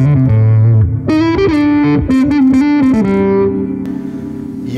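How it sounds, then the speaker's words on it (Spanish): Electric guitar played through a Line 6 distortion effect, sustained distorted chords and notes ringing out loud and close with no talking. "Y eso es lo que me gusta de distorsión en el Line 6."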